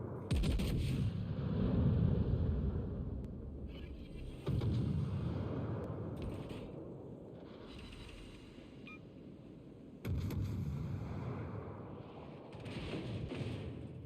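Heavy gunshots from a video game sound in a handful of booming reports spaced several seconds apart, each with a long rumbling tail and fainter mechanical clicks in between.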